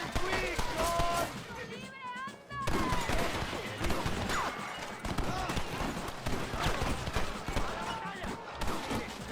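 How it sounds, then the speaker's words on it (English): Repeated gunfire in the Western video game Red Dead Redemption, rapid shots and volleys over a busy battle mix, with characters shouting and talking throughout. "Stop shooting at me!"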